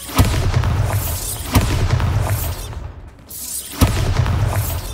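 Bombarda spell blasts from the Hogwarts Legacy video game, with three loud booming explosions spaced about two seconds apart, each followed by a rumbling tail, and a brief quiet gap before the last.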